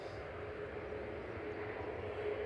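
A jet airliner at Manchester Airport gives off a steady, broad engine roar that stays even and moderately close throughout, with no talk over it.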